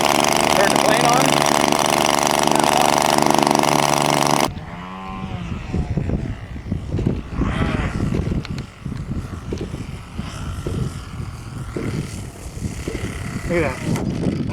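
An RC model airplane engine buzzes loud and steady up close for about four seconds, then cuts off, and people talk outdoors over light background noise.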